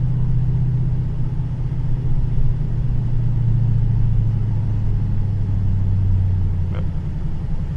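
Car with a 426 Whipple-supercharged Hemi V8 pulling under power with a tuning and stalling problem, a loud, close, continuous engine rumble holding a steady low drone that sags slightly near the end, with no talking.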